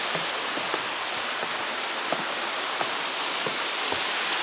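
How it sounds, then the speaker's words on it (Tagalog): Waterfall at Mair Park, a steady hiss of rushing water, fairly faint and distant, with small clicks and rustles on top. "Ayun yung falls."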